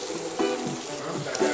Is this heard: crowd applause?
no